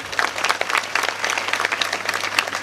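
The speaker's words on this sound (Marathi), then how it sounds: "मनपूर्वक टाळ्या वाजवून मी स्वागत करतो" An audience claps in welcome at a kirtan gathering, a dense, steady burst of applause close by that carries on throughout, with no talking.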